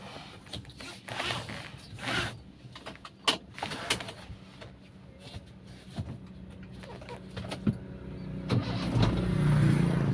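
A motorcycle with a K5 carburetor, engine already hot, is started: clicks and rattles come first, then the engine catches and settles into a steady idle that grows louder at the end, with no talking.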